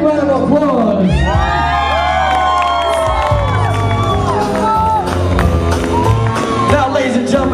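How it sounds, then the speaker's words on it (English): Wedding guests at an open dance floor cheer, whoop and shout together in a loud, continuous crowd roar, with lively excited voices rising over the noise. "let's give them a big round of applause."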